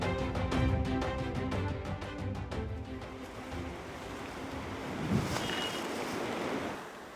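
Heavy surf and rushing typhoon wind roar continuously outside a harbor breakwater at Jangsaengpo on Korea's east coast, waves surging and crashing in a broad, steady wash of noise.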